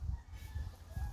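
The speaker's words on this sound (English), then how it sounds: "Let me show you our chickens." Aging backyard hens cluck in short bursts close by, a few soft repeated calls over a low rumble outdoors.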